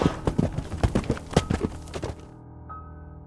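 A horse-drawn coach clatters past with quick, close clip-clopping hoofbeats in an uneven rhythm that slows and stops, ending in a short faint ring.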